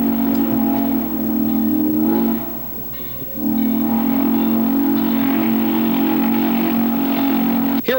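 Old steam engine train chugging along a short stretch of railroad track in Williamson County, a loud steady rumbling drone with a brief dip midway and a sharp whistle-like sweep at the very end.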